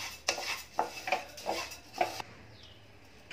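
Dry rice grains stirred and scraped in a pan over low heat for chakali bhajani, a string of clinking utensil strokes against the pan with brief gaps, close and fairly clear, no voices.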